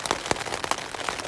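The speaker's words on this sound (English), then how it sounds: "Wasn't expecting rain today." Rain falling through a grove of trees during a thunderstorm, a steady close patter of drops on leaves and ground with a few sharper louder hits, no voices.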